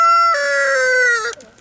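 A rooster crows loudly and close by in a backyard flock, one drawn-out call lasting over a second before tailing off.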